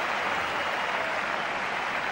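Sustained applause and cheering from a tennis crowd at a Madrid 2011 match between Federer and Lopez, a dense, even wash of clapping filling the arena throughout with no talk over it.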